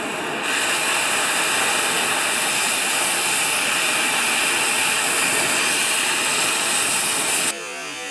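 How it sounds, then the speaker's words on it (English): Blowtorch flame roaring and hissing steadily while heating rusted bolts on a 1979 Ford, a loud close broadband rush held evenly for several seconds before cutting off abruptly. "I'm going to use a blowtorch for that and just hot wrench those things off of there"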